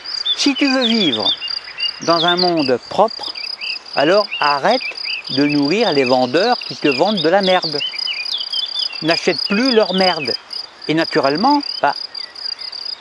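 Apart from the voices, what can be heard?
crickets chirping outdoors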